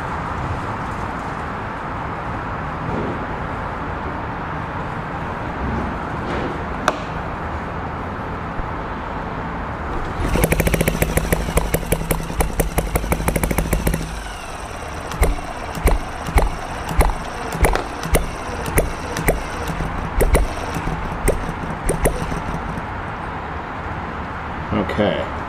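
Small engine started with the choke on, catching after a cranking attempt and then running in a fast rapid chatter, followed by rhythmic pulsing bursts as it sputters and surges up close.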